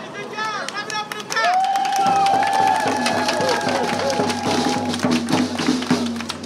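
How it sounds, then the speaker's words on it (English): A street protest crowd at night in St. Louis claps in a steady rhythm while people cheer and shout. The clapping is close and loud, with voices rising over it throughout. "People giving a hand to the cops for blocking off the intersections for them."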